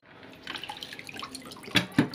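Water trickling and dripping into a fish aquarium during cleaning, a steady splashy flow with a couple of louder plops near the end, close by and without talk.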